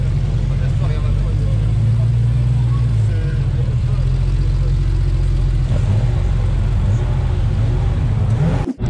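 A low, rumbling engine runs steadily and loud, its pitch drifting slightly as it idles and revs, with voices murmuring underneath.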